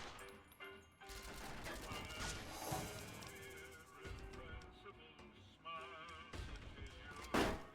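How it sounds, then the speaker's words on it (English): Pistol shots in Fallout: New Vegas at the Tops Casino ring out as several sharp cracks over the game's background sound and music, with a louder impact near the end. "I then use the last 2 bullets in our pistol to gain the attention of the rest of the guards"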